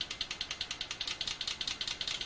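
A steady, rapid mechanical pulsing, about eight beats per second, with a hissy high-pitched tone, simulating a water fuel injection engine idling, continuous and fairly quiet.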